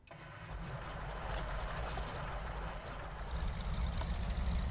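The engine of a CAC Winjeel in Microsoft Flight Simulator starts up and settles into a steady, rumbling idle that grows slightly louder toward the end, with no talking.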